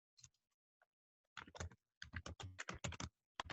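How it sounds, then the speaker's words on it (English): Typing on a computer keyboard comes in quick, uneven bursts of clicking keystrokes, quiet and close, with short pauses between runs. "Pardon my typing."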